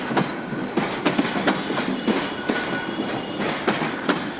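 A train rolls through a Bangladesh railway station, its wheels beating a loud, regular clickety-clack over the rail joints throughout, close by.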